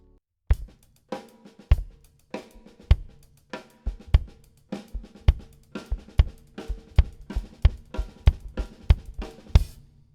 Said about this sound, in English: Bring it up to speed and it will sound like this.